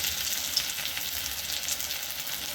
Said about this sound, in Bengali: এখন বড়াগুলোকে ভাজবো তো কড়াইতে সর্ষের তেল দিয়েছি